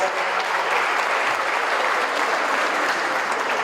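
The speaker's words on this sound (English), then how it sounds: "Let's give him another round of applause" Steady, dense applause from a large crowd, loud and sustained throughout with no pauses.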